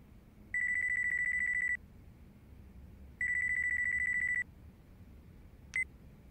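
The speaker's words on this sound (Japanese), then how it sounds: "俺の電話だ。 あいつはジャケットから携帯取ってくれ。" A mobile phone rings in the video game Yakuza 5 with two long, steady electronic ring bursts separated by a pause, then a brief blip, moderately loud over a quiet background hum.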